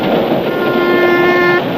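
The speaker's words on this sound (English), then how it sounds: "As the train zoomed along," A cartoon train speeds along with a loud, steady rushing rumble, and a sustained whistle-like horn tone sounds for about a second midway through.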